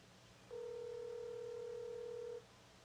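A single steady telephone tone sounds for about two seconds as a call is placed, clear and moderately loud over a quiet room.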